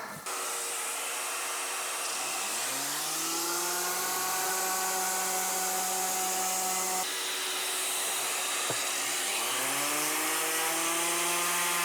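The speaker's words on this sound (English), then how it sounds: "I'm going to take the palm sander to the inside of that" A palm sander runs steadily against the inside of a vintage wooden suitcase case, a continuous whining drone with pitch shifts as pressure changes and one brief knock partway through.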